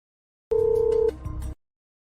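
A telephone call rings out with nobody answering: a single steady electronic ringback tone holds for about half a second, then gives way to a brief muffled clatter before silence.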